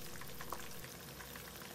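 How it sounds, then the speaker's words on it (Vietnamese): Tofu fries in hot oil over high heat on its second fry, a close, steady crackling sizzle with small pops running throughout. "Anh chị em mình thấy dầu nóng rồi nè, giờ mình cho đậu hũ vô."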